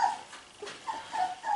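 Young Berger Blanc puppies, about two and a half weeks old, whimper and whine in short, high, wavering cries, several overlapping in quick bursts close by.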